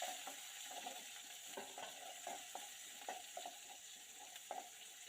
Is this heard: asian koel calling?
no